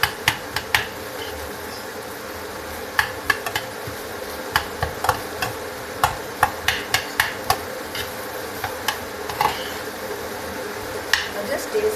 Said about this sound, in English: So now I'm mixing it up nicely. You have to mix it up. Just break up the potato inside